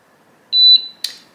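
A Lidl induction hob gives a loud, clean electronic beep as it is switched on, one sustained tone with a brief stepped second note, then a short click-like tap in a quiet room.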